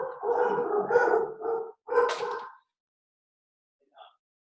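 Dogs barking and howling in a continuous loud burst for over two seconds, a brief pause, another howling bark, then silence and a faint distant yip.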